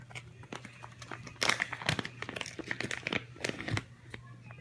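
A plastic bag of cinnamon, apple and peach scented wax melts crinkles and crackles as it is handled and opened, a close run of irregular rustling bursts with no talk.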